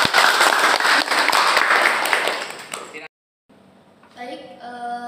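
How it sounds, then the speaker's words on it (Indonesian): Students in a classroom clap for a group about to present, giving loud, busy applause for about three seconds before it cuts off abruptly into silence, followed by quieter room sounds. "Tepuk tangan untuk kelompok 1."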